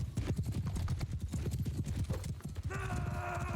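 Horse hooves in the video game Mount & Blade II: Bannerlord pound in a fast, continuous galloping rhythm, close and busy, ending with a higher-pitched whinny-like tone.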